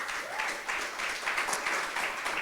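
A church congregation applauds during a Sunday service, a soft, steady patter of many hands clapping at a distance.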